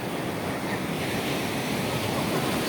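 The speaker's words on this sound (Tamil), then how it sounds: "கடல் அலைகள் சத்தமும் சேர்த்து தான் நான் ரெக்கார்ட் பண்ணுறேன்" Ocean waves break steadily on the beach at Ventura Pier, a continuous loud roar of surf with some wind noise, no pauses and no voices.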